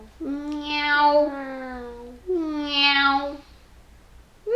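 A young child imitates a cat, giving two long, drawn-out meows with rising and falling pitch, close and clear in a quiet room.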